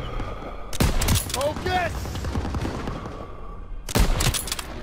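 Machine-gun fire in the Call of Duty WWII video game, with two loud rapid bursts at the start and the end amid battle noise, and someone shouting an order in between.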